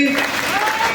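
A brief, dense patter of crowd clapping from an audience at a Hindu community gathering in Chagallu, mixed under a voice addressing them.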